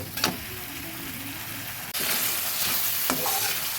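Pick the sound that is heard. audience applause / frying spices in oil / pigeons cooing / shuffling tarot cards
frying spices in oil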